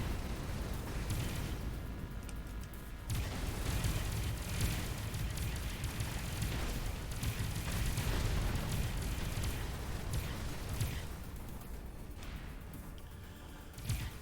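Space battle in the game Avorion, with dense continuous weapons fire and rumbling explosions against alien and AI ships, a loud unbroken wall of booms and blasts without pauses.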